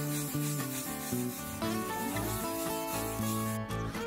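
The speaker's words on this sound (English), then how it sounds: "Once it's dried, I sand it with a wet 2000 grit sanding sponge." A wet 2000-grit sanding sponge rubs the clear coat on a 1/24-scale Volkswagen Type 2 delivery van model in a steady, close, continuous scrubbing rhythm, heard alone.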